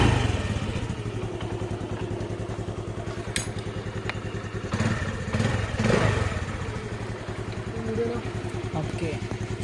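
A Honda Dio scooter left standing for days is cold-started and runs, a close, uneven, rattly small-engine putter with a few clunks and thumps, while a person talks over it.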